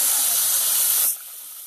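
Raw prawns dropped into hot oil with fried green chilli, onion, ginger and garlic, giving a loud, steady hiss and sizzle that cuts off abruptly to a quieter sizzle.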